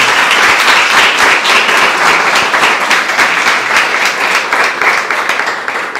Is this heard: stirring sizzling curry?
no